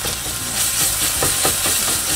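Tomato paste sizzling in hot fat in a pot, a steady close hiss of frying with faint crackles running through the whole stretch, no voices.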